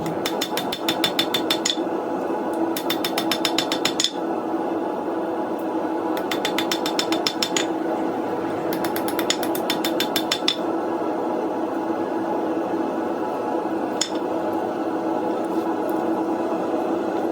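Rapid bursts of hammer blows ring out as a forged coil spring knife blade is beaten flat and straight, several clustered volleys of quick metallic strikes separated by short pauses, loud and close over a steady workshop hum.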